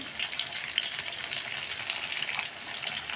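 Brinjal bajji deep frying in hot oil, a steady bright sizzle and crackle running the whole time with small pops scattered through, close and even, no voices.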